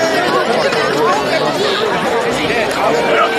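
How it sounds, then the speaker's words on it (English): Homecoming crowd at a West Virginia high school football game, Hurricane at Oak Hill, on a fall day: a continuous, loud babble of many overlapping voices chattering close by with no pauses. "a nice homecoming crowd started to fill in"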